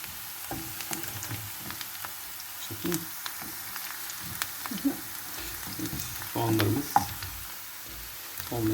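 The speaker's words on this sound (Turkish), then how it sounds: "Kavuruyoruz. Soğanları öldürüyoruz." Chopped onions sauté in a hot pan while Turkish kuzugöbeği mushrooms are being cooked, giving a steady close sizzle with occasional stirring clatter. A person speaks intermittently over the frying.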